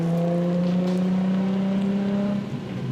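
Nissan 350z drift car with a VQ35 engine and a new Vibrant welded exhaust, holding a loud, steady rev with a strong droning tone that eases off slightly near the end.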